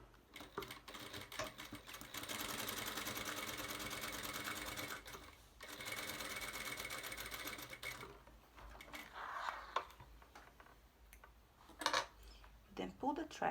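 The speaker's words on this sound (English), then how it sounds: "We're now adding a gathering stitch from this to this with the longest stitch on your machine" A sewing machine running a long gathering stitch on summer dress fabric, a sustained close whir for several seconds, then stopping and restarting in shorter bursts with handling noises.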